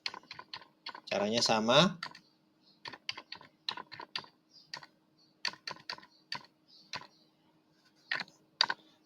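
Typing on a computer keyboard while entering commands in a Lubuntu terminal: rapid irregular clicks and key taps, close and crisp, with a brief spoken phrase early on.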